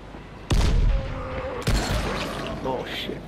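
Two heavy grenade blasts in Dying Light: The Following, each a sudden loud boom with a rumbling tail, the second following about a second after the first, while someone talks in between.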